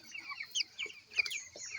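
Chickens cluck and chirp in short, overlapping calls, fairly close, with no talking.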